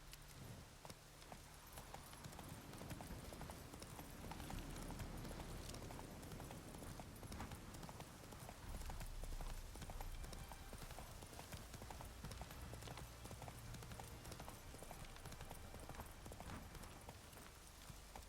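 Roach, a horse in The Witcher 3 video game, gallops with a steady, rapid clip-clop of hooves throughout, fairly quiet and mixed with game ambience.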